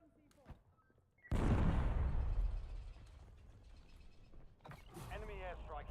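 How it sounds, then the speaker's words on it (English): Enemy airstrike explosions in a battle royale video game: a heavy blast erupts after a quiet moment, followed by a sustained loud rumble, with game voice lines over the tail. "Enemy airstrike in the area."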